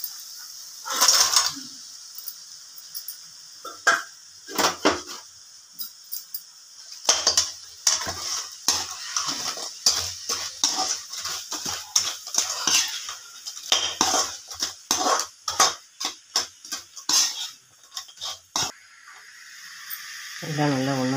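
Idli pieces get stirred into fried onion, tomato, capsicum and pea masala in a pan. A spoon clatters and scrapes against the pan in quick bursts, over and over, with quieter gaps between them.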